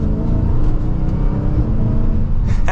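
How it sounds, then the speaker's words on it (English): Dodge Charger SRT Hellcat Widebody pulling away in track mode, a loud, steady engine drone with deep low rumble that holds throughout, heard close from inside the car with no talking. "so we are setting off now in the Hellcat."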